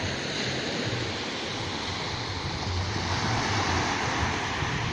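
Sea waves wash continuously onto Kantieng Beach on Koh Lanta, a dense steady roar of surf mixed with wind buffeting the microphone, loud and unbroken throughout.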